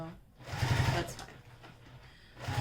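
A sewing machine backstitching while sewing a small Tribiani bag, a short burst of mechanical whirring stitching that pauses and resumes, with a voice talking briefly over it.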